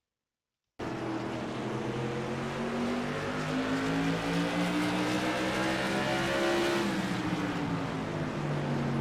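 A race car engine from the Thunderstruck Super Series with Killin' Time Tour mods starts up abruptly after a brief silence and climbs steadily in pitch as the car gets rolling on track, loud and close, with no talk.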